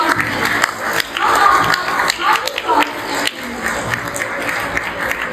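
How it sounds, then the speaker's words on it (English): Applause and crowd noise at a school investiture day, welcoming the service staff, with uneven bursts of clapping mixed with voices and chatter throughout. "let us once again welcome our service staff members with a round of applause"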